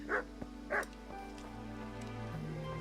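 Dog in the video game Kingdom Come: Deliverance gives two short, close barks, then softer whimpering yips over a steady low background hum of game ambience.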